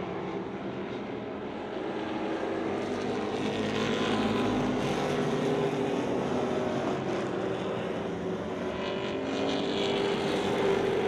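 Hobby stock race cars at Mission Valley Super Oval make a broad, sustained engine roar that swells and fades as the pack passes, with no voices.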